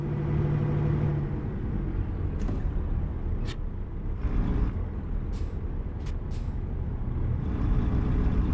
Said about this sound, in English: Oh, they're braking.